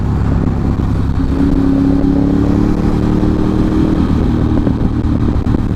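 Big V-twin motorcycle engine rumbling loudly and steadily up close, with a rising rev in the middle and crackling pops as it comes back down.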